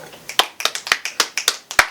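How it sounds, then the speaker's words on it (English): Clapping during a podcast recording, about a dozen sharp, distinct hand claps in an uneven rhythm, close and loud with brief silences between them, no talk over them. "Clap it up for that."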